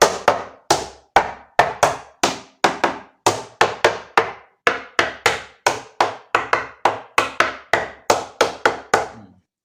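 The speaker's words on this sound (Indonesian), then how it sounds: "Untuk mempermudah sih sebetulnya bisa kita ketok ya." Sharp knocks land on the body of an RC catamaran to tap it open, about twenty-five close, loud, evenly paced hard raps that each decay quickly, with no talking.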